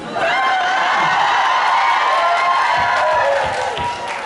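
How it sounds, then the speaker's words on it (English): A convention audience cheers and shouts in a sustained, loud crowd roar that rises then gradually eases, with scattered whoops throughout. "What the hell was that cheer for?"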